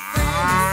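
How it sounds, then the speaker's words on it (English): A cow gives a single loud, close moo that starts after a brief quiet moment and holds steadily to the end, with no voices. "It's a cow."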